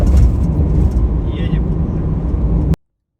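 A 2012 Honda Fit GE6 with a 1.3 engine drives along a road, giving a steady low cabin rumble of engine and tyre noise that cuts off abruptly near the end.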